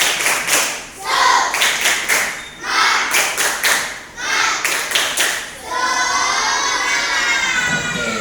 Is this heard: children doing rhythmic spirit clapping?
yes